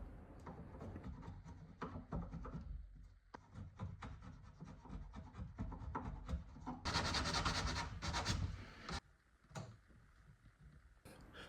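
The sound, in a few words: planing, chiseling and sanding wooden trim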